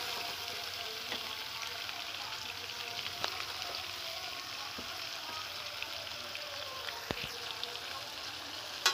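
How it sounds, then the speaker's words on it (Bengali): Potato, eggplant and tomato frying together in a pan, giving a steady, soft hiss of sizzling oil broken by a few faint clicks of stirring. "ভালো করে আমি আলু বেগুন টমেটো আর ভালো করে আমি নেড়ে নেব"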